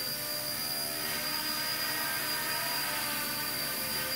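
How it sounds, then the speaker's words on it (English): XK K124 EC145 collective-pitch RC helicopter flying indoors, a steady close whirring hiss of rotor and motor with a thin high whine, continuous and unbroken throughout. "It definitely flies a little bit more like a collective pitch helicopter."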